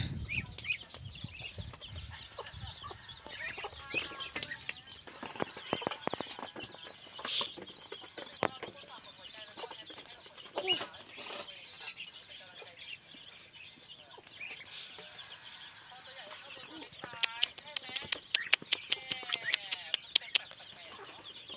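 Chickens and ducks cluck and crow around a farmyard in the rice fields amid steady background noise, with bursts of sharp clicking sounds near the end.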